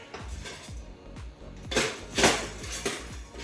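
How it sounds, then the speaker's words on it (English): A whisk beating an olive oil and lemon dressing for a chickpea salad, a series of rhythmic clicking taps against a bowl, growing louder and more scratchy midway, with no talking. "And I'm gonna whisk it together."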